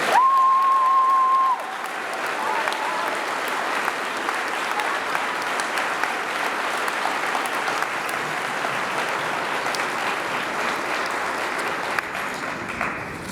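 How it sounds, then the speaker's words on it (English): A school class day audience gives sustained applause for two choir musicians, with steady dense clapping and a faint cheer rising briefly near the start. "Please give a round of applause to Joshua Shin and Adele Van Lieshout"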